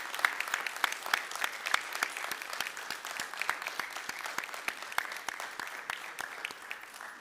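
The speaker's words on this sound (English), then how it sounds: "Let's give these folks a round of applause." Applause from the audience at a town council meeting in Miami Lakes, many hands clapping in a fairly even, brisk rhythm, moderately faint and steady throughout with no speech over it.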